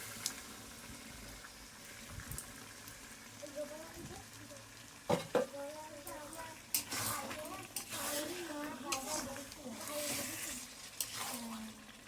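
Yogurt-marinated chicken goes into hot spiced oil, soft sizzling and bubbling broken by a few sharp clatters and louder stirring bursts, with a voice speaking faintly at times.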